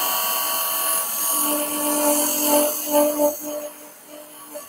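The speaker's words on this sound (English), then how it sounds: "So the little bead I'm going to do with a fluted parting tool." Wood lathe cutting a small bead with a fluted parting tool, a high tonal whine with shifting pitch as the tool engages, close and steady before easing off.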